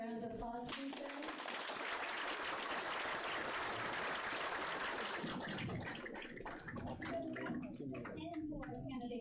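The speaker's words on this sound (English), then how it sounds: "Can I have a round of applause, please, guys?" A crowd claps at a 2022 candidate forum, a broad wash of applause rising after a voice and fading into more speech near the end.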